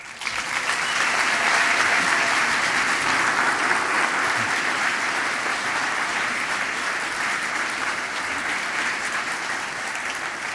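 A congregation applauds Bishop Bob at a church ordination and commissioning service, with broad, even clapping from a large crowd that holds steady and full throughout without fading.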